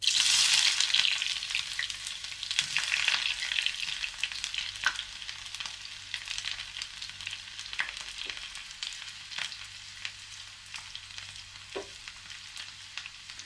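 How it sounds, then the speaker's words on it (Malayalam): Chopped onion and curry leaves drop into hot oil where mustard seeds have popped, setting off a loud initial sizzle that settles into continuous frying crackle with occasional sharp pops and stirring, no speech. "ഇനി ഇതിലേക്ക് അരിഞ്ഞു വെച്ചേക്കണ ഉള്ളിയും വേപ്പിലയും കൂടി ചേർക്കാം."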